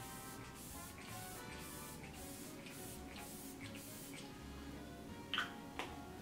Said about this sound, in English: This is the Mara Badescu facial spray with aloe, herbs, and rose water.